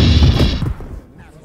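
A blaster gunshot in a Star Wars audio drama: one loud, close, broadband burst that rings for a moment, then drops away into quieter background.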